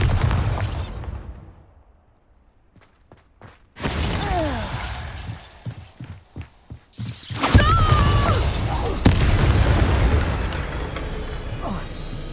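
A Bombarda explosion spell in the video game Hogwarts Legacy sets off loud booms and shattering bursts, followed by mechanical clatter, with a voice heard over part of it.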